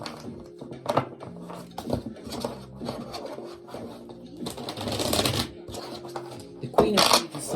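Rapid papery riffling bursts of tarot cards being shuffled, three shuffles at close range, with soft handling noises in between.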